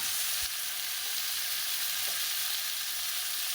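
Cauliflower and potato curry with tomato and ginger paste sizzles loudly and continuously in a pan, a dense, even frying hiss with a few faint knocks of stirring.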